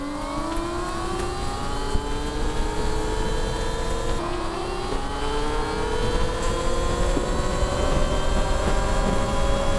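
A Xaber 300 electric scooter's motor, running a new controller update, whines loudly while riding at speed, its rising and falling tones layered over constant wind rush and road noise.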